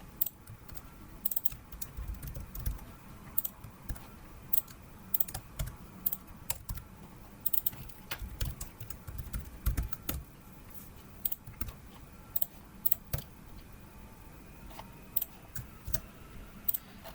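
Typing on a computer keyboard, a steady stream of light, close key clicks in an uneven rhythm, with quiet stretches between faster runs.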